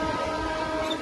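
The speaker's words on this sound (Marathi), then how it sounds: "ती बघा ट्रेन आली आमची." A train arrives at a station with a continuous low rumble and steady mechanical drone, close and loud, filling the brief moment with no pauses and no speech.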